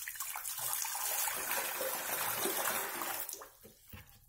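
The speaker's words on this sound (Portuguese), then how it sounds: "Vamos testar, vamos encher de água, ver se vai vazar" Water pours steadily into a washtub (tanquinho) fitted with a new drain valve, a continuous rushing fill that cuts off near the end, leaving a few drips and trickles.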